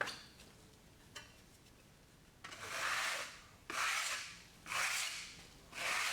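A tool scratches through a layered decorative plaster wall finish in a few long, rasping strokes, each a sustained gritty scrape, following a quieter stretch of light scratching, close up with no voices.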